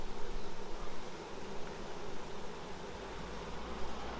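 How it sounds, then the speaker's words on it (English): Honey bees buzz steadily around an open hive during an inspection, making a dense, even hum that stays close and continuous with no voices. "Got the bees crawling all over my fingers."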